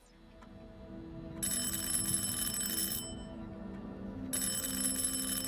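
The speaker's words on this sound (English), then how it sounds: "Answer that phone." A telephone rings in the video game Harold Halibut, with two bright, sustained bursts of electronic bell ringing separated by a short pause, set over a steady low ambient hum.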